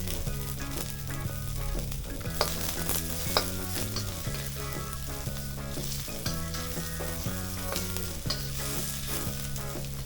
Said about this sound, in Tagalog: magigisa na tayo. Unahin natin yung ating luya.